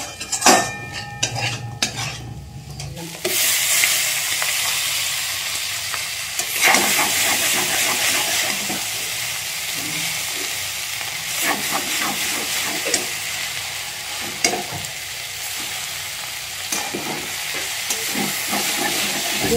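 Chow mein noodles frying with meat in a pan, with a steady loud hiss and sizzle and frequent metal utensil scrapes and clinks against the pan, following a few sharp clatters at the start.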